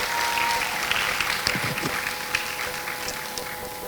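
Audience applause for a group of presenters at an awards-style event, a dense, steady wash of many hands clapping that stays loud and even throughout, with scattered sharper claps standing out.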